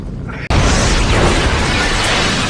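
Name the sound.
helicopter explosion in a film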